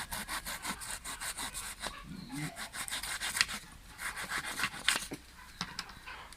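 A knife saws through a jackfruit being cut up for frying, making repeated rasping, scraping strokes at close range with a steady rhythm and no talk.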